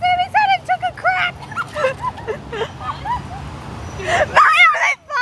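Puppies yipping, barking and whimpering in high, wavering bursts, close by, with people chattering in the background.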